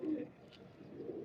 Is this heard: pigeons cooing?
yes